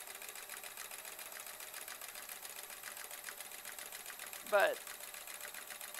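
A sewing machine stitches embroidery at a fast needle pace, with a steady rapid whirring hum throughout and a brief spoken word near the end.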